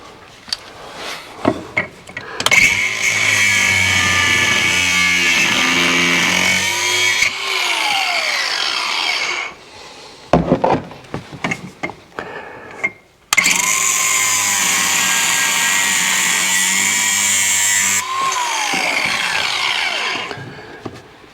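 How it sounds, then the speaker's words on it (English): Loud, sustained power tool cutting and grinding on a Kawasaki KRX vent delete install, in two long bursts, each winding down with a falling whine, with brief quieter gaps and clatter between. "power tools."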